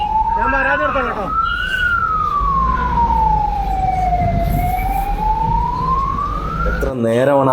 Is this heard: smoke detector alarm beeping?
no